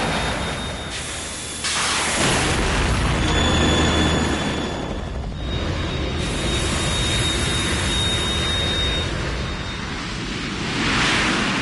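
A Harrier jet in the Metal Gear Solid 2 video game gives off a loud, steady, wind-like roar, with a thin high whine running through the middle of it.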